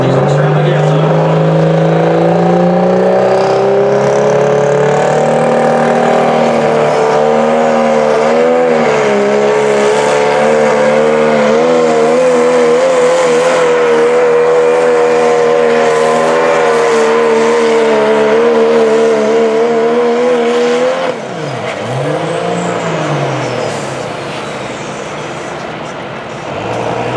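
A diesel pulling truck roars at full throttle during a diesel truck pull at the Shine Diesel Extravaganza, Outlaw Diesel Super Series: a loud, sustained, wavering engine bellow that drops sharply near the end and tails off.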